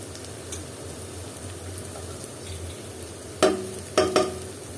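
Fish head curry is stirred with whole spices in a hot pan, giving a steady low sizzle with a few scraping stirs near the end. The sound is close and moderately quiet, with no talking.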